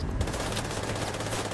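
Rapid, continuous gunfire in a video game plays as a dense, loud burst that starts abruptly and runs without pause, with no voice over it.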